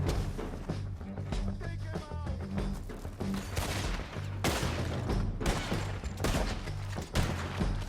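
A Red Dead Redemption 2 gunfight: repeated loud gunshots and volleys close by, mixed with impact thuds over dense game sound, shouting voices faint beneath.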